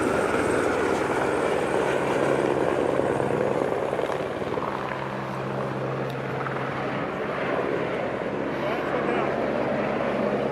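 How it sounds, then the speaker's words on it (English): A customs helicopter at the US–Mexico border in Arizona drones steadily with a low rotor thrum and engine roar, close and loud for the whole stretch, while voices talk faintly underneath. "helicopter in action."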